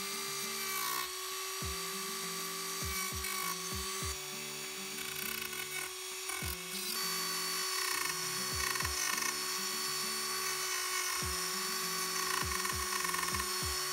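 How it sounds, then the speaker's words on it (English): A rotary tool spins a medium-grit sanding drum against the sharp plastic edges of a Flux Raider blaster, a steady high whine with repeated rhythmic grinding bursts as the drum touches the workpiece, close and continuous with no talk. "let's go ahead and sand them down using a medium grit drum at about this RPM"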